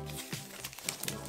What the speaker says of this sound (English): we'll keep pulling that backing tape off